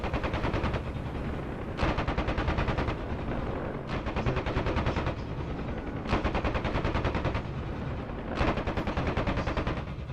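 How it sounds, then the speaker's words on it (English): Continuous bursts of rapid automatic gunfire in DCS World, Marianas WWII, loud and close, with several sustained volleys and brief pauses between them, no voices. "Sorry mate, I can't hear over the gunshots."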